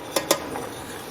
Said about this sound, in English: add that sugar in and mix it in slowly